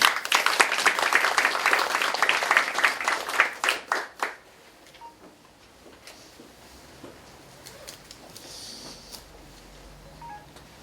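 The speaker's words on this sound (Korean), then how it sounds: "큰 박수로 맞아주십시오" An audience at a campaign office opening ceremony in Korea gives a burst of brisk, dense clapping to welcome a pastor to the podium. It is loud for about four seconds, then tapers off into a quiet room.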